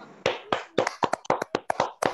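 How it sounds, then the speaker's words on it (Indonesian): A small group claps hands at a church fellowship gathering, a loose run of sharp, close, uneven claps spread over two seconds, with no talk over them. "Tepuk tangan dulu dong."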